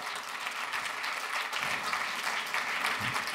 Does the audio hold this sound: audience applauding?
yes